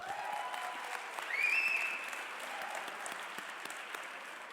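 Steady applause from a conference audience at a Melbourne fintech startup demo day, sustained and moderately loud for the whole stretch, with a brief swell partway through.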